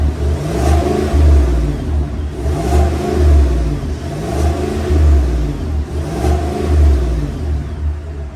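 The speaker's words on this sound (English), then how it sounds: "down below we have quad tip exhausts for this V8 monster" The 5.3 liter naturally aspirated V8 of a 2023 Chevrolet Tahoe Premier revs repeatedly through quad tip exhausts, a loud, close, deep rumble rising and falling in a steady rhythm of blips about every second and a half.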